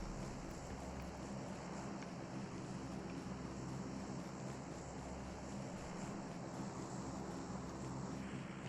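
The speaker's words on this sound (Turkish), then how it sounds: "Ha ben uçağın sesini duydum." In PUBG Mobile, an airplane drones overhead, a faint, steady low engine hum that persists evenly throughout.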